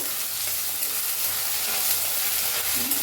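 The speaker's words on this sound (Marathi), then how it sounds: "कांदा जरा भाजला आहे, त्याच्यात आपण अद्रक आणि लसणाची पेस्ट घालूया 1 चमचाभर, हलवून घेऊया" Chopped onion cooking in a pan with a spoonful of ginger-garlic paste, stirred for a moth bean usal, makes a loud continuous sizzle and hiss close by, with faint scraping under the steady frying noise and no speech.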